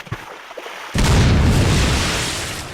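A hand grenade goes off in Resident Evil 4: a sudden loud, close boom after a quiet lead-in, with a dense low rumble that lingers and slowly fades.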